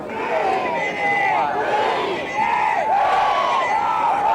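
A boisterous crowd at a 1984 high school football game between East Brunswick and JP Stevens fills the air with steady, loud chatter and shouting, close and continuous throughout.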